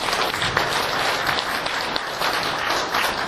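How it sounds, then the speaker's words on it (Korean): An audience at a Suwon mayoral candidates' debate hosted by a merchants' association applauds, a dense, steady wash of clapping that fills the room throughout, with no speech over it. "큰 박수 부탁드립니다"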